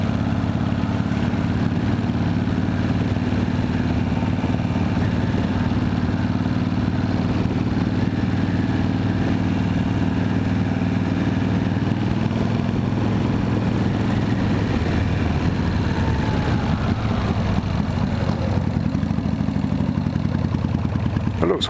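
A Harley-Davidson FXRS motorcycle engine runs steadily while riding, a continuous low throbbing drone with wind rush, holding fairly constant before easing off near the end.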